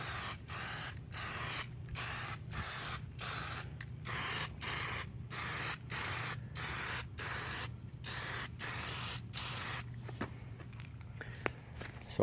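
Aerosol Plasti Dip coating hisses onto a car grille in short regular bursts, about a dozen even sprays separated by brief pauses, close and alone over a low hum, then a few small clicks.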